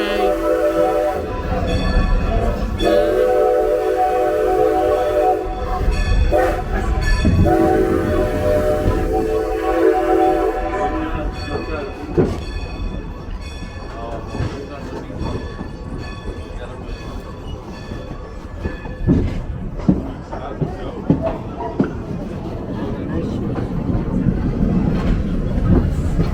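A Strasburg Rail Road train pulled by locomotive #90: a loud, sustained horn or whistle blares for the first ten seconds, then the heavy rumble and clatter of rolling cars continues at close range.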